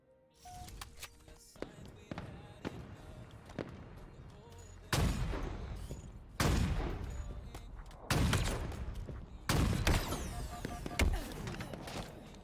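Gunfire and sniper shots in the Halo video game ring out as repeated sharp, loud blasts at irregular intervals over a busy in-game soundscape, with several heavy cracks standing out toward the end.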